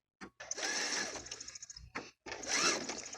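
Sewing machine stitching the seam of a cotton face mask, two quick bursts of fast whirring needle running close and clear, split by a short pause, with no talk.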